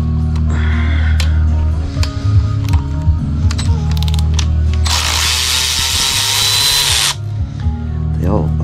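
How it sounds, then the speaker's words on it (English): A power tool spins against a bolt during a 30/30 cam install teardown, in short bursts and then a loud sustained whir of about two seconds, close over a steady low hum with a voice talking. "I'm already taking the wrong bolt out"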